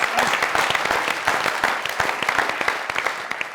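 Studio audience applause on a comedy talk show, lively and close, with many distinct sharp claps over a dense clapping wash, staying strong for several seconds.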